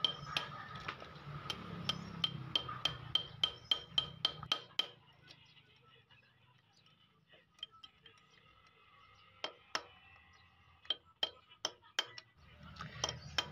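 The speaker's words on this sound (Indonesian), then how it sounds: "kita menggunakan obeng, kita kotok dari bagian sini" A screwdriver taps and knocks at the oil pump seal of a motorcycle, giving a run of sharp, quick metallic clicks, then sparse scattered taps over a faint background hum.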